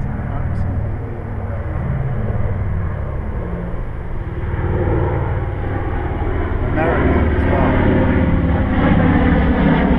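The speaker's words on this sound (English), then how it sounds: "there is a Second World War bomber just flying straight over" A Second World War bomber passes straight overhead, its engine drone a steady, loud low rumble that grows fuller toward the end, captured outdoors with no voice over it.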